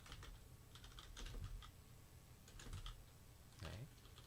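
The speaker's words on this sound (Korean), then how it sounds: "타이핑이라든지 할 수가 있는 거죠." Someone types on a computer keyboard in the Vim editor: quiet, irregular clusters of key clicks with a few louder, heavier keystrokes, recorded close up at low volume.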